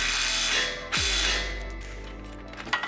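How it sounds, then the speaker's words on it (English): Ratchet wrench tightening a front lower control arm retainer bolt on a third-generation Subaru Impreza WRX, a close mechanical clicking and whirring with a sharp drop in pitch midway, then quieter clanks. "Slide in your retainer bolt. and do him up nice and tight."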